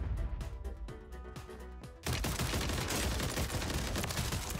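Gunfire in a video game loadout match: a few sharp single blasts for two seconds, then a dense, continuous roar of rapid shots and explosions, loud and close.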